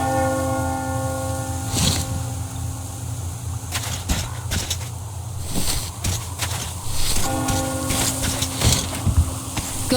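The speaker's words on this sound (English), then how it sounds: "Do you hear that bell?" A bell rings out in a post-apocalyptic wasteland survival game, its sustained tolling tones layered over a steady low rumble and intermittent sharp clatters, fairly loud throughout with no speech.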